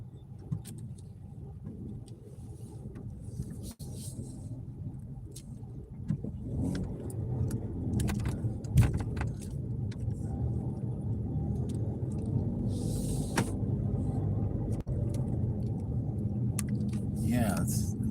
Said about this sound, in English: the traffic's giving me a headache today